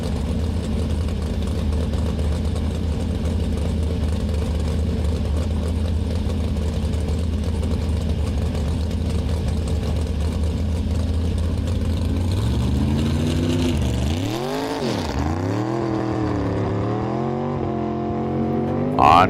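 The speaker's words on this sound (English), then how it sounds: "That is a double A street roadster roaring on the course." A double A street roadster race car roars on the dry lake course at El Mirage, a loud, sustained engine drone that holds steady and then revs and falls in swooping pitch waves as it shifts and passes.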